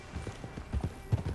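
Horse hooves clip-clop at a steady walking rhythm in Red Dead Redemption 2, close and moderately loud, with faint background ambience and no clear talk.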